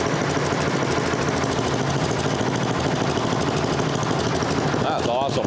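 A 10.5hp MTD Yardworks 29-inch snow blower engine runs close and loud with a steady, even drone, and a voice is briefly heard over it near the end.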